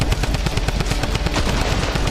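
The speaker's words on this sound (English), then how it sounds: "getting up close and personal with the double barrel" Double-barrel shotgun blasts in a Fortnite match, a dense run of loud, closely spaced booming shots repeating at a steady quick pace with no gaps, the whole stretch heavy and close.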